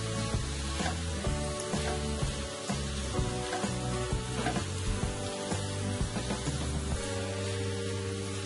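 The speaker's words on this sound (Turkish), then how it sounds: "haşlanmış barbunyalarımızı, pırasalarımızı içine ekleyip ne güzel karıştırıyoruz arkadaşlar" Boiled borlotti beans and leeks being stirred in a pan, giving a steady, close sizzle with soft scraping under continuous background music.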